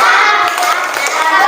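Children in a classroom do a spirit clap, a short patterned clapping routine. The claps are close and rhythmic, and children's voices chant along with them.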